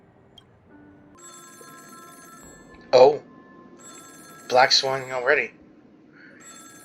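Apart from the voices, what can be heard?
telephone ringing in a video game (Honkai: Star Rail)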